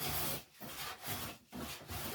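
Hand plane or scraper taking thin, one-thou shavings off a wooden surface, three steady strokes with brief pauses between them, close and fairly loud with no talking.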